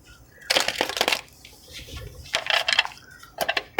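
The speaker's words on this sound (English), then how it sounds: "One more shuffle and then we'll get into it." Tarot cards being shuffled close up, three quick riffling bursts separated by short pauses.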